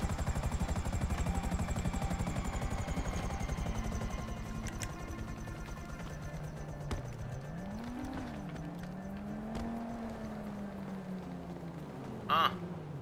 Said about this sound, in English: Land my chopper on top of my club.